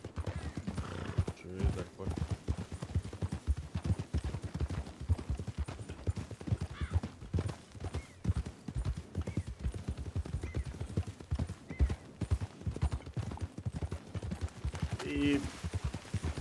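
Steady galloping horse hooves in the Western roleplay game RedM, a rapid continuous clip-clop rhythm throughout, with a brief neigh near the end.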